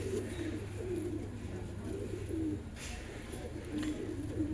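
Pigeon coos repeat in soft, rolling phrases throughout a pigeon loft in Allahabad, moderately close, over a steady low background hum with no talking.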